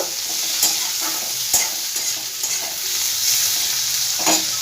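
A bread filling fries and is stirred in a pan, giving a constant loud sizzle broken by a few sharp spoon scrapes and knocks against the metal, with no voices.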